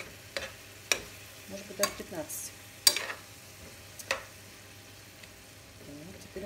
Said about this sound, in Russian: Перемешиваем все. Ну, еще минут 10 тушим.